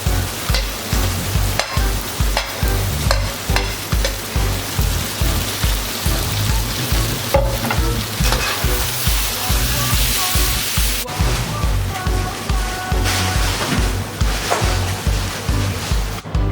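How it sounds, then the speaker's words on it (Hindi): Fried okra tipped into a masala sizzles steadily in a pan while being stirred, a loud, continuous crackle with repeated scraping strokes and no talking. "ये देखिए इसमें मैं भिंडी जो मैंने फ्राई की थी वो डाल रही हूँ"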